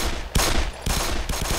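Rapid, loud automatic gunfire from the Black Mesa shooter game, coming in close, dense bursts that crackle on and off with only brief gaps between volleys.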